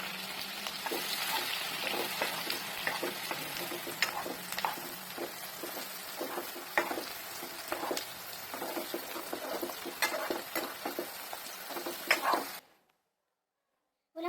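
Onions sizzle and crackle steadily in a hot pan, with sharp stirring scrapes throughout, then the sound cuts off abruptly near the end.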